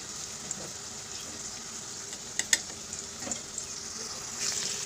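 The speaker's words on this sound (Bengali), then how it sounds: "পেঁয়াজটা লাল লাল করে ভাজা হয়ে গেছে" Onions and pumpkin fry in a pan with a steady, quiet sizzle, broken by a few sharp clicks and scrapes of stirring near the middle.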